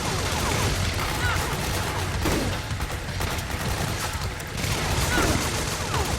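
A double-barrel shotgun fires in the video game Metal Gear Solid 4, with dense, continuous gunfire and battle noise throughout and a voice faintly underneath.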